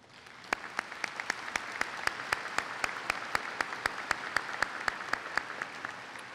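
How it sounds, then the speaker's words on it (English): High school graduates applaud themselves at a 2018 graduation ceremony, a broad, reverberant wash of clapping with sharp individual claps popping out at a steady rhythm. "Give yourselves a round of applause."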